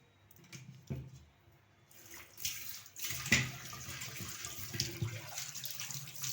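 Water splashes and runs as a clay pot is rinsed and scrubbed by hand, with gentle sloshing that grows busier and louder partway through.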